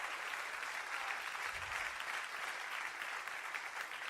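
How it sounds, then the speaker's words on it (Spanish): A church congregation applauds during a Spanish-language sermon, a faint, distant, steady patter of many hands clapping that carries on for several seconds without voices over it. "O cuando le da un aplauso a Cristo en el día de hoy."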